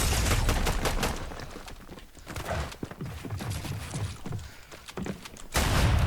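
Shotgun fire in the Fortnite video game, a series of sharp gunshot bursts spread across several seconds amid dense game noise, with no voices.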